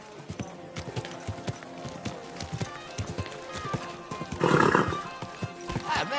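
A horse in Kingdom Come: Deliverance II whinnies loudly over steady clip-clopping hooves, the neigh rising midway while hoofbeats continue close by throughout.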